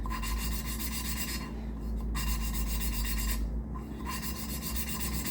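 Subaru engine valve lapped by hand against its seat, a loud gritty rasping rub repeated in steady back-and-forth strokes with brief pauses between.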